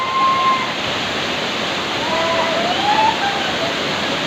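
Chiseni waterfall roars in a steady, loud, broad wash of falling water that fills the whole stretch without a break, with a few faint whistle-like tones briefly above it.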